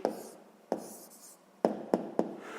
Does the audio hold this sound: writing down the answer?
yes